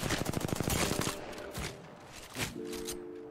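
Rapid gunfire bursts in the video game Apex Legends, a dense stuttering volley for about a second followed by a few scattered distant shots and a faint tonal game cue.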